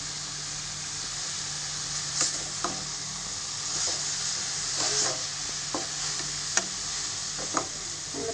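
Carrots sautéing in ghee, for carrot halwa, hiss in a steady close sizzle, with repeated light clicks and scrapes as a spoon stirs them, and no one speaking.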